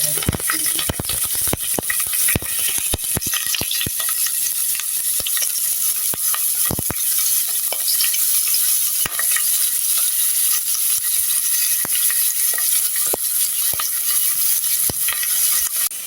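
Sliced onions and green chillies fry in oil in a pan for a Jaffna-style beef curry, a loud continuous sizzle with repeated scraping stirs of a utensil, close up and without speech.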